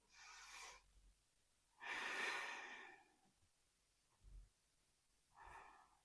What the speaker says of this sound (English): Let me just take a few deep breaths.